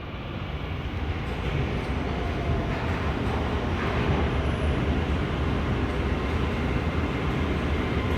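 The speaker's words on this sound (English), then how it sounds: "Both of the trains came in roughly the same time, just a few seconds apart from each other on both platforms." Doha Metro trains pull in at both platforms a few seconds apart, a steady loud rumble of wheels and motors filling the station without pause, with no voices over it.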